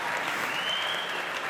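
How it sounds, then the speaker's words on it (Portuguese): Brief burst of steady audience applause at an award ceremony for a nativist music festival, dense clapping throughout with no voices. "vamos aplaudir, senhoras e senhores"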